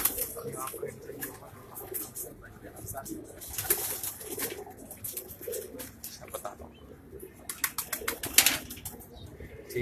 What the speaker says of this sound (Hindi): बेहतरीन शौक आपको करवाएंगे जनाब आज शाही मन और अफजाल भाई के कबूतरों का।